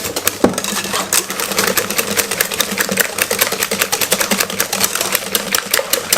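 Yorkshire pudding batter of plain flour is beaten briskly in a bowl, giving a loud, close, fast and steady run of rhythmic mixing strokes with no pauses.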